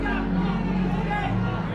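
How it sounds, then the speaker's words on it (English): A boxing arena crowd in Dallas, Texas, a sold-out house of about 6,000 fans, buzzing as a steady, dense murmur of voices throughout, with a commentator talking over it. "This crowd's still buzzing."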